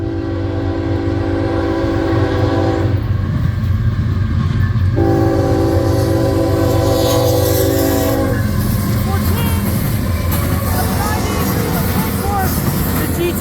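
CN freight train M302, led by locomotive 3814, rolls southbound through Ladysmith, Wisconsin, sounding two loud, sustained horn blasts over the constant roar and rumble of the passing train.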